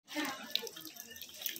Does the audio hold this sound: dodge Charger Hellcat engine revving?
no